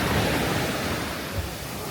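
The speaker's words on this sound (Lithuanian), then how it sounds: "Bangos nedidelės, šiandien maudytis galim." Small Indian Ocean waves wash onto the beach at Unawatuna, Sri Lanka, as a steady, close, even hiss of surf with one slight swell near the end and no voices.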